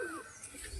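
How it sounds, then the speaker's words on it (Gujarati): Pet pigeons, including a Shirazi type, released to fly, with a short burst of bird calls and a thin whistling tone lasting under a second at moderate, steady loudness. "આ મારા કબૂતર ઉડે છે"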